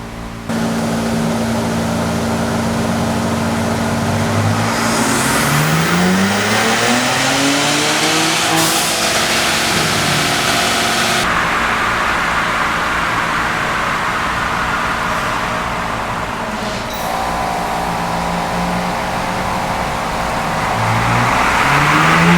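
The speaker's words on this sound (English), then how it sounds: "got the Bronco Raptor all loaded up onto the dyno, and we're gonna go ahead and do a baseline first" A Ford Bronco Raptor with the 3.0L engine runs on a dyno for a baseline pull, its exhaust droning steadily and rising and falling through long revving sweeps with no talking.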